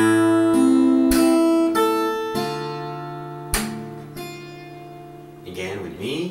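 Fingerstyle acoustic guitar plays a song's chorus, sharp percussive slaps on the strings punctuating sustained plucked chords and bass notes at a moderate pace, close and clear, ending with a brief fumbled flourish.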